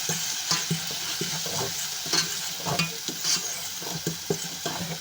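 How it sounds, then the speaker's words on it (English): Eggless pumpkin spiced fried rice is stirred in a pan with chili flakes and black pepper, giving a soft sizzle beneath repeated scraping strokes of a utensil against the pan in an uneven rhythm. "Just stir this a little bit more."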